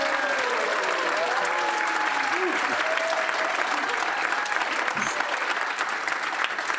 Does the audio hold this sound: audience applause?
yes